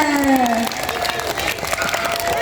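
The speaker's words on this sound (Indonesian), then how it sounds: "Tepuk tangan dong buat semuanya." Children and adults at a Maulid Nabi storytelling event clap together in a brief burst of applause, mixed with young voices and sung tones over the clapping.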